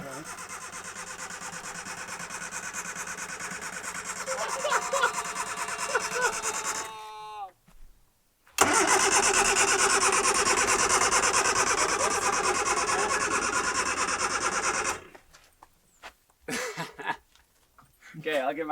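A car engine cranks and catches, then runs at a steady idle; the engine cuts out, restarts, and idles again before stopping, with voices nearby.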